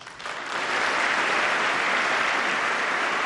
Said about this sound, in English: if those are all members of Congress that are applauding him